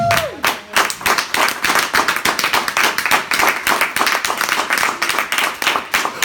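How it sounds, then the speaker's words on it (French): A church congregation at a Sunday worship service claps together in praise, producing steady, loud rhythmic handclaps that run continuously for several seconds with little voice over them. "Je veux qu'on acclame le Seigneur pour sa vie."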